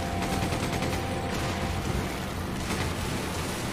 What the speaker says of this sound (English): Good thing I brought the machine gun.